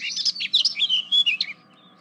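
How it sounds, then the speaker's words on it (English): Cartoon birds in an animated comedy short chirping in quick bursts of high, bright tweets, close and lively for about a second and a half before falling quiet. "stop it, crazy chirping, you crazy birds"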